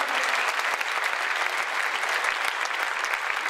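Audience applause at a jubilee concert for a singer in Yerevan, a dense steady clapping from a large crowd that holds evenly for a few seconds.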